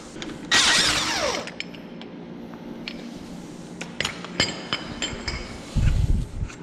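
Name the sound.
removing a drum puller from a Packard rear brake drum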